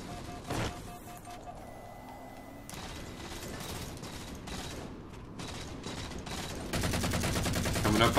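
Automatic weapon fire crackles in the Halo 4 video game, with bursts of rapid shots, mechanical clicks and a denser volley at the end over a steady game soundtrack bed.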